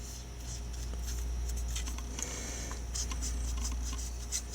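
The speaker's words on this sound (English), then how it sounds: "I also take a couple of swipes on the chrome trim, just to kind of dull that down a little bit" A paintbrush swipes across the chrome trim of a 1/25 scale model muscle car, giving a few soft, brisk scratchy strokes up close over a constant low hum.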